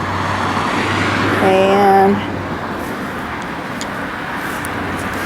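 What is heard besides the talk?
street traffic noise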